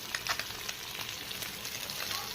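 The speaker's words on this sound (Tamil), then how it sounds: "சந்தனா வீட்டு மசாலாவின் மீன் வறுவல்." Fish with homemade masala frying in a pan, a steady broadband sizzle with small crackling pops running throughout, close and fairly quiet.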